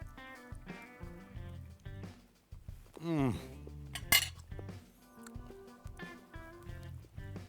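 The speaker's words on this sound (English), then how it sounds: "knife and fork, let's give it a taste" A knife and fork clink and scrape against a plate of pork belly huevos rancheros with tortilla, sauce and egg: a few sharp, close metallic taps and a scrape around the middle, set against a steady background.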